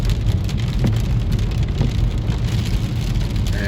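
Steady rain falls after a tornado warning, a dense, continuous hiss of drops on surfaces with a low rumble underneath, loud and unbroken throughout.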